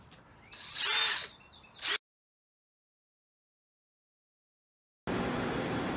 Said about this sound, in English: I'm going from the top to drill out through the bottom